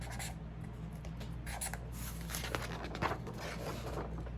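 Pen writing on paper, a steady soft scratching and rubbing with short strokes at close range over a constant low electrical hum, no talking.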